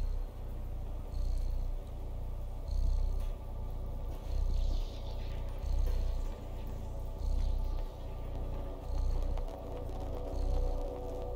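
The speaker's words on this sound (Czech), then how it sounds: "Já slyším, jak vrní. Ona vrní, ta kočka." A cat purrs in the video game Stray, a steady close rhythmic rumble swelling and easing with each breath, heard alone with no talk.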